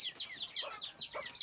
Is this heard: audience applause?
no